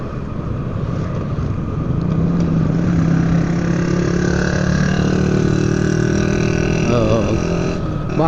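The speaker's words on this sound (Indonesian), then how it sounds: "Banyak anak muda suka dengan knalpot yang bising begini sekarang ya." Loud, rough exhaust roars from passing motorcycles and cars on a road on the outskirts of Medan, with engine drone building and holding close by as vehicles go past, plus a brief rising whine near the end.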